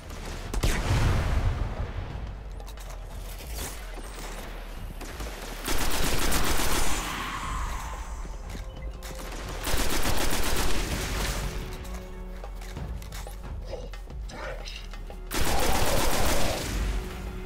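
Destiny gunfire, including shotgun blasts, bursts out in several loud volleys spaced a few seconds apart, against a busy background of game ambience.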